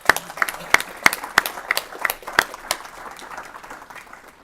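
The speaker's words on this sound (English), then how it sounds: "Can we give them a round of applause to the students?" An audience at a state education committee meeting gives a round of applause to students: sharp, distinct claps near the start that thin out and fade into a softer patter of clapping.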